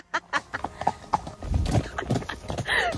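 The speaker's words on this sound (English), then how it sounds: "So I said to Charlie, we'll come riding around the woods because it's all nice and cool" A ridden horse walks along a shaded woodland track, its hooves clip-clopping in a steady uneven rhythm close by, with louder rustling and movement joining partway through.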